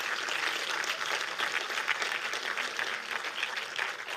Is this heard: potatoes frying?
no